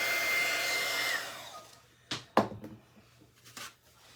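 A heat gun blows hot air while a primitive Halloween centerpiece is being crafted, a steady whooshing hiss that cuts off after about a second and a half and gives way to a few scattered handling knocks and clatters.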